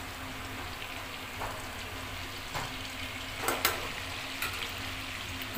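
Butter with ghee and oil sizzles in a kadhai while Afghani chicken gravy is being made, a steady crackling hiss with a few sharper pops and spatters midway, close and with no talking.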